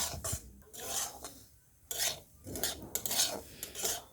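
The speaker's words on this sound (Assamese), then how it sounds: "এতিয়া মই চুজিখিনি ল' ফ্লেমত মিনিমাম 5 মিনিটমান ভাজি ল'ম" Steady scraping and rasping of a utensil against a pan in repeated strokes as semolina roasts on low flame, up close with no talking.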